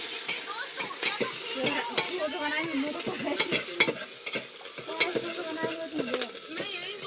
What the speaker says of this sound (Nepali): अब तोरीको तेल हालिसकेको छ यस्तो प्याज हाल्ने